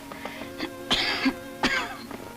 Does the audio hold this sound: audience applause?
no